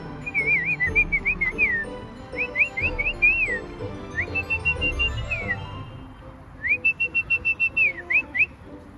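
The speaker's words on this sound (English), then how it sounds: "Hi, bird." A bird at a Phillip Island animal park gives bright whistled chirping phrases in several quick bursts with short pauses between. It sounds close and clear over a low murmur of background noise.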